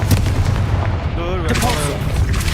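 A Confringo blasting spell going off in the Hogwarts Legacy video game, a dense rumbling burst of booming impacts with a whistling magical trail over steady game noise.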